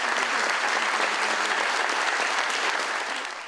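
Audience at a Jewish community gathering in Gherla applauding, a dense, sustained clapping that fills the room and fades slightly at the end, with no talk over it.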